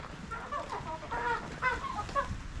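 Village chickens cluck and murmur nearby in short, overlapping calls, a busy coop chatter with no talking.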